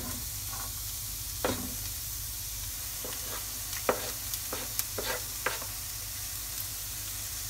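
Onion frying in a very hot oiled pan for a crustless quiche, a steady bright sizzle broken by a few sharp spatters and scrapes of stirring, with no one talking.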